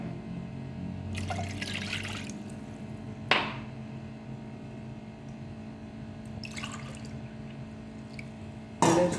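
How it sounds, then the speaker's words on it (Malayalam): Water from a glass is poured into a pot for boiling pasta, giving short trickling splashes in a few separate bursts against a quiet kitchen hum, close by and without talk. "ഇതിലേക്ക് നമുക്ക് വെള്ളമൊഴിക്കാം ഒരു ഗ്ലാസ് വെള്ളം"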